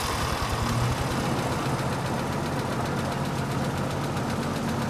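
An old military vehicle's engine turns over and settles into a rough, loud, steady idle with rhythmic knocking and vibration, close up and without talking.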